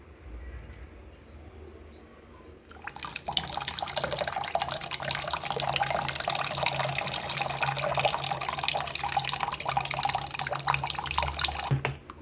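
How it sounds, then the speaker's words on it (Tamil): After a quiet start, soaked tamarind water begins pouring in a steady, splashing stream that runs continuously until the end. "நம்ம ஒரு வச்ச புளி தண்ணி ஊற்றிக்கலாம்"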